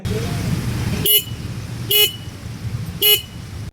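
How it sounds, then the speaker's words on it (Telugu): Three short, loud beeps from the single front horn of a 2026 Honda SP 160 motorcycle, spaced about a second apart, sounded close by over a low idling engine rumble. "అలానే ఫ్రంట్లో సింగిల్ హార్న్ అయితే ఇచ్చారు. ప్లేస్మెంట్ ఎక్కడైతే ఉంది. సౌండ్ వినడానికి లౌడ్గానే ఉంది."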